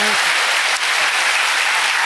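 Applause from a church worship congregation, a dense steady wash of clapping that fills the whole short stretch at even loudness with no break.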